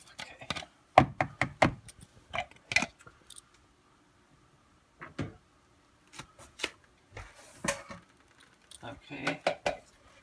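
A spoon or utensil clacks and scrapes inside a bowl while a bean burger mixture is mixed, in short irregular bursts of knocks separated by quiet gaps.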